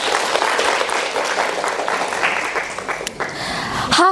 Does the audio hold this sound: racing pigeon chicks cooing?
no